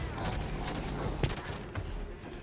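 Gunfire in Halo 5: Guardians, dense overlapping rapid shots under a continuous battle din with one sharper close blast, steady and fairly loud throughout.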